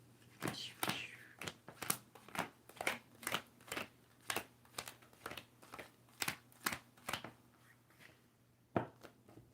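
Tarot-style cards shuffled by hand for a card reading, a series of sharp riffling bursts about every half second over a steady low hum, fairly close and quiet, with no talking.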